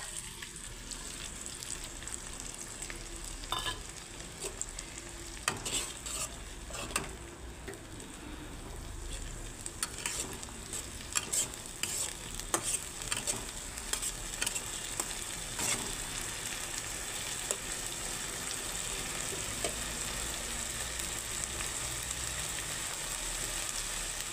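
Ginger-garlic paste, added after chopped tomato, sizzles steadily in hot oil in a pan for a soybean and potato curry, with intermittent scraping stirs over the constant frying hiss.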